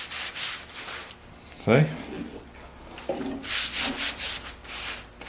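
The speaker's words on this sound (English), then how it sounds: "now I've gone over that several times with acetone" Acetone-soaked rag rubbed and wiped over a Mercedes M100 6.3 engine block, a few close scrubbing passes at the start and again near the end, with someone briefly talking between them.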